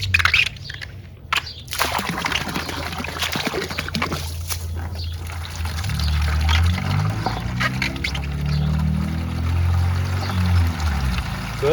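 Water from a swimming pool return pours into a bucket through a pool noodle, a steady close gush and slosh that grows fuller and deeper partway through.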